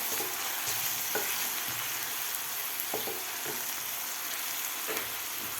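Tomatoes with a little salt stirred in a pan for a spiced pea and spinach curry, a soft continuous sizzle with scattered light spatula taps and scrapes, fairly quiet, with no voices.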